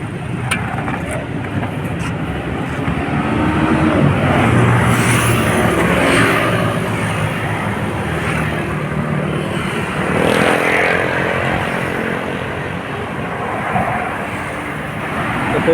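Heavy road traffic on Roxas Boulevard in Manila forms a continuous loud wash of engines and tire roar, with passing vehicles swelling and fading and occasional motorcycles above the steady din.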